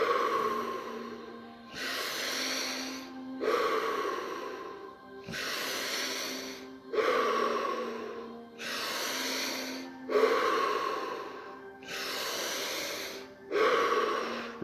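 Deep mouth breathing during a guided breathwork session, with strong audible breaths cycling steadily in and out roughly every second and a half, close and loud, with no talk.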